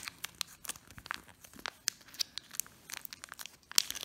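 Scissors cutting the top off a cheese sauce packet for smoked Gouda shells and cheese, a quick series of close crinkling, tearing snips of plastic.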